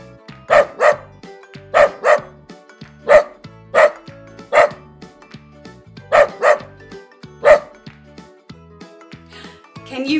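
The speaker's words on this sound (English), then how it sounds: "the dog says woof," Dog barking in single sharp woofs and pairs at an irregular rhythm, close and clear over a light musical backing, with a voice talking between the barks.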